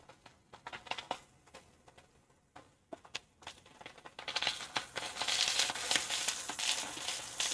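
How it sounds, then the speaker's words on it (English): Prawns sizzle and crackle in a hot pan, with scattered pops at first building into a dense, steady frying hiss. "the sound from the frying of the prawns"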